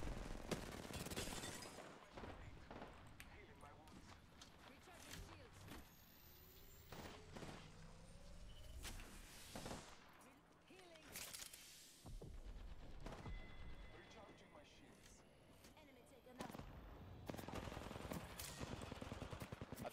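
Gunfire in the battle royale game Apex Legends, with repeated bursts and sharp shots scattered across the clip, some near and loud, others quieter, over continuous game ambience.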